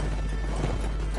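Horse hooves clip-clop from a mount in Mount & Blade Warband, a brief steady rhythm buried in a thick wash of battlefield noise, with no voices.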